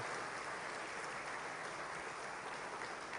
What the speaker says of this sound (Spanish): Dale fuerte ese aplauso al Señor, dale fuerte.